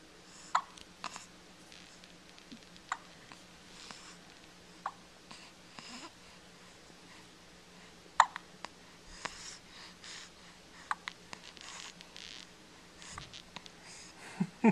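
A baby hiccuping indoors, a string of small sharp hics scattered irregularly over about fifteen seconds, close but soft against a low steady room hum, along with faint breathy sounds.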